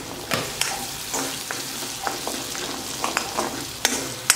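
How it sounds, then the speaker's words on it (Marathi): Dal poured into a hot tadka tempering sizzles and crackles in the pan, with sharp spattering pops and stirring scrapes over a steady fry hiss, close and alone. "तडक्यामध्ये हे डाळ आपण टाकून घ्यायचे आहे"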